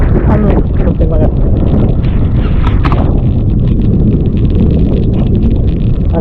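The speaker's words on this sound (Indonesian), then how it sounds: "pulang kita ini kena angin kenceng banget" Heavy, constant wind buffets the microphone during a ride on a classic Vespa scooter, a loud roar with no let-up that covers everything, along with a few faint voices early on.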